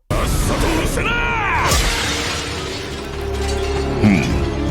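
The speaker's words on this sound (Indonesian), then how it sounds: "Tapi pedang itu malah hancur, cuk." In an anime fight, a big sword shatters against an orc, giving a sharp metallic crash and ringing debris amid loud, dense action sound and shouted voices.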